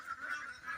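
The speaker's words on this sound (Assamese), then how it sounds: "ইয়াত মোৰ লোকেল হাঁহ আছে" Local ducks on a duck farm giving a few faint, nasal honking quacks in a brief, distant burst.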